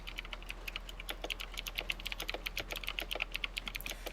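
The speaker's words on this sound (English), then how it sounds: "You might want to mute yourself while typing." Rapid typing on a computer keyboard, a quick irregular run of close key clicks with no talk over it, steady throughout the stretch.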